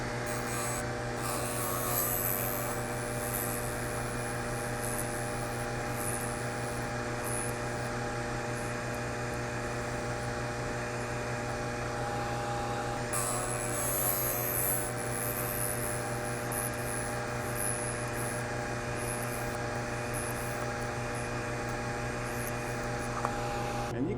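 A VEVOR MR-13A drill bit sharpener runs with a constant tonal motor hum while grinding a drill bit, giving a faint rasping scrape across the steady drone, no talking.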